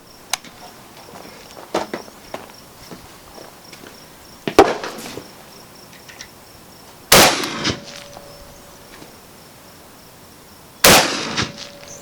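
American Tactical TacSX2 shotgun firing 3-inch shells outdoors, with sharp loud blasts spaced several seconds apart, each ringing off briefly, and smaller clanks and knocks of the action between shots.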